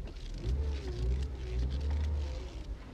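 A car backing slowly into a station yard, its engine a low steady idle rumble with slight swells, close by and alone with no voices.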